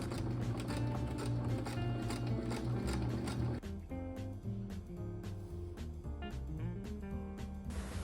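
A sewing machine runs a top stitch around the edge of a messenger bag, a loud continuous mechanical whir and rapid needle rhythm that drops in pitch partway through, then continues with a steady clatter, heard close with no talking.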